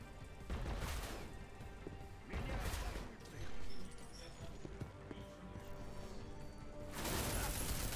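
A thrown grenade explodes in Deus Ex: Mankind Divided, giving a few loud, crashing bursts spaced several seconds apart with quieter game noise between them.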